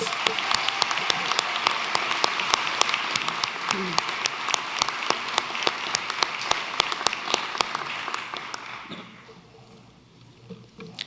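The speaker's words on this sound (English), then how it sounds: "All right, another round of applause." Audience applause fills a university business school undergraduate award ceremony: dense, steady clapping from a sizable crowd for about nine seconds, then it thins and fades into quieter room sound with a few scattered claps.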